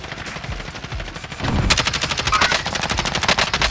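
Rapid automatic gunfire from a Kilo assault rifle in a Call of Duty Rebirth match, with sustained close bursts that grow louder and denser after a short lull.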